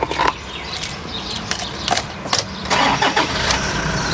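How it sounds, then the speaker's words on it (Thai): A 2014 Toyota Fortuner 3.0 V automatic turns over and fires on the first try. Sharp starter and ignition bursts are followed by a steady, close idle. "เดี๋ยวสตาร์ทฟังเสียงกันครับ"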